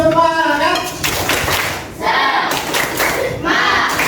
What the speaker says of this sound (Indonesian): kita tepuk semangat terlebih dahulu